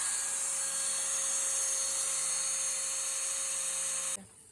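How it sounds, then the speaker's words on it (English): A fine-tipped Dremel rotary tool grinds a loop sculpture tool in a steady, high-pitched whine that runs for about four seconds, then cuts off abruptly. "Dremel."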